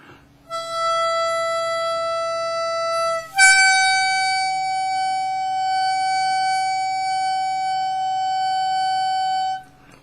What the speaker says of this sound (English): producing the overblow, which is higher in pitch than the normal 6 blow